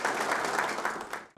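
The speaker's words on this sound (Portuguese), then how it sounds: "Palmas em reconhecimento pelo trabalho" Audience applause at an award ceremony at the Brazilian Superior Labour Court, a brief steady burst of clapping that fades out abruptly.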